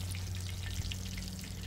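Onion rings frying on a Blackstone griddle, a steady close crackling sizzle with scattered pops and spits, alone without voices.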